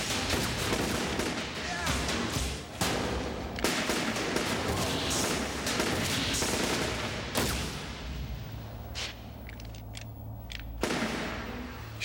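Rapid gunfire bursts in a sci-fi TV shootout scene, repeated loud shots and volleys with brief gaps, some voices mixed in.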